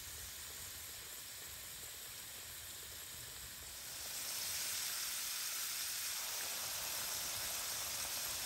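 Potatoes frying over a campfire give a steady, close hiss and sizzle that grows noticeably louder and denser about halfway through, with no voices over it.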